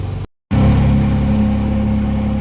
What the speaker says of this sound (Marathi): आता गाडी फर्स्ट वर आहे जास्त पण बोमटवत नाही